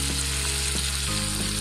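Hilsa fish shallow-frying in a pan over medium heat, a dense, continuous loud sizzle and crackle of hot oil heard up close, without any speech.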